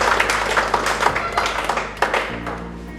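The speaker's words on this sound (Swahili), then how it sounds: "Simpige makofi." A church congregation claps together during a family day service, a dense patter of hands under a steady low drone, with music or voices faint in the background.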